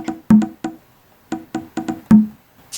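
Korg Volca drum machine congas tap out a syncopated pattern of short, hollow hand-drum hits, some louder and ringing, others quick and lighter.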